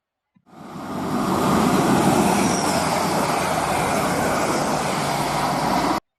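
A Class 180 passenger train passes close by with a steady, loud roar and broadband rumble lasting several seconds, then the sound cuts off abruptly.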